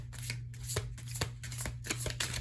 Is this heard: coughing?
no